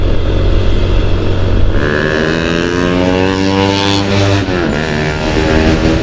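A motorbike races past on a morning road, its engine note rising then dropping sharply as it goes by, over the loud, steady wind and engine roar of a riding motorcycle.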